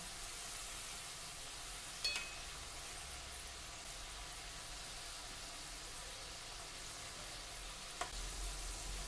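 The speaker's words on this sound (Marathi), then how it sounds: "गोल्डन ब्राऊन होईपर्यंत डीप फ्राय करून घेऊया." Cornflour-coated French fries deep fry in hot oil with a steady, close sizzle that carries on throughout, broken by a couple of faint clinks.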